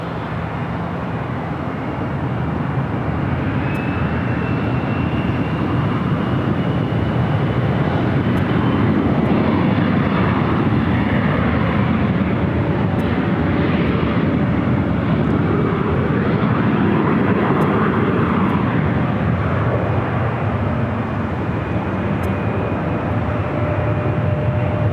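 A Hawker business jet takes off from runway 24 left at Los Angeles International Airport, its engines building into a loud, continuous roar that holds steady for the whole stretch.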